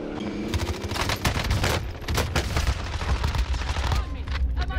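Gunfire in Call of Duty Warzone, loud and dense, with rapid bursts and sharp individual cracks that come in clusters throughout, no speech over it.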